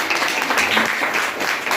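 Seminar audience applauding in a hall, a dense, steady wash of many hands clapping at once, loud and continuous throughout with no talk over it.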